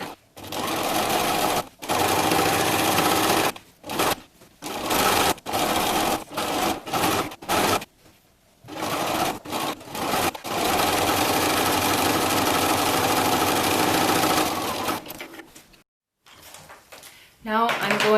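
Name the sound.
sewing machine sewing bias binding on a flamingo costume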